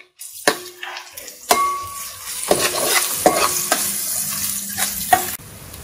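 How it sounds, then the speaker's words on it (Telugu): Ginger garlic paste fries with onions in a pan for mutton chana dal curry, a steady close sizzle broken by repeated sharp scrapes and knocks of a spoon stirring against the pan. "ఈ అల్లం వెల్లుల్లి పేస్ట్ కూడా పచ్చివాసన పోయేదాకా వేగనివ్వండి"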